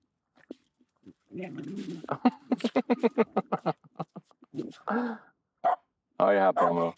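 A playful dog named Aamu barks out in the snow, firing off a quick burst of close, rhythmic barks and yips that is followed by a few more scattered calls.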